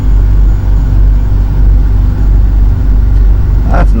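A passing truck sends a loud, continuous low engine rumble and road roar past at close range, with a brief higher rattle near the end.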